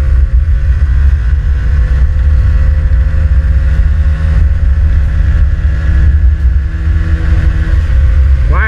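A Honda Pop 110i motorcycle engine drones loudly and continuously at high revs during a top-speed run, with a steady buzzing tone and wind rush, rising slightly near the end.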